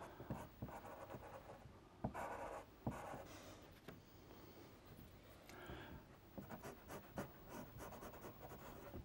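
Pastel scratching on paper, pressed hard while shading a kingfisher's beak, in close, rhythmic strokes of varying length, quiet and alone.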